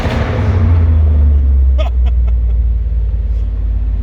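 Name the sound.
supercharged 4th gen Camaro engine revving loudly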